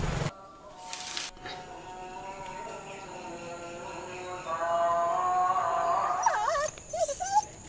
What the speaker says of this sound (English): This is a stray dog.